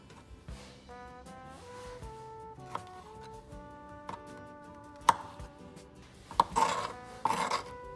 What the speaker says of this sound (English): you wait for these strawberries to thaw out, and then you cut them